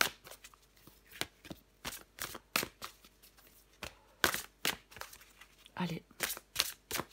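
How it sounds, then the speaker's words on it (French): Tarot cards are shuffled and drawn in a series of crisp, close riffles and flicks, with short pauses between bursts and a voice speaking quietly at times. "Allez, je prends encore une carte pour vous"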